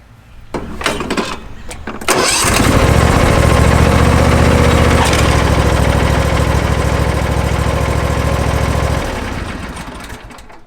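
A Simplicity Conquest riding lawn mower with push-button start cranks briefly, catches, and settles into a loud, steady engine drone close by for several seconds before fading back down.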